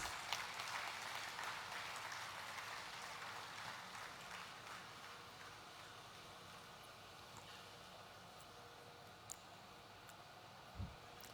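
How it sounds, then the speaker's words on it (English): An audience at a formal Gauhati High Court platinum jubilee ceremony applauds a commemorative postage stamp unveiling. The clapping is faint and distant, densest at first and then thinning out, with a few isolated claps near the end. "A huge round of applause, everyone, please."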